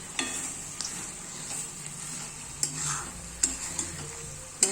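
Spices for a fish gravy fry over a high gas flame, a steady close sizzle broken by sharp clicks of a spoon stirring against the pan, with no talk.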